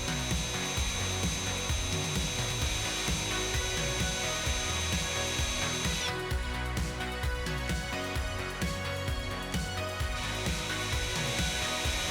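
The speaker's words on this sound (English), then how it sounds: "use this drill to turn the armature while we condition that stone, or condition the commutator" A drill runs continuously, close and loud, turning a Miele motor armature while a stone conditions the commutator, its motor whine steady while the stone rubs and grinds against the spinning part.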